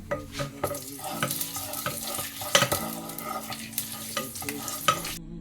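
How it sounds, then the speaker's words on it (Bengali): Panch phoron and dried red chilli sizzle in hot oil in a kadai, with steady close frying crackle and occasional stirring scrapes of a utensil against the pan, no voices. "পাঁচ ফোড়ন শুকনো লঙ্কাটাকে একটু ভেজে নিলাম"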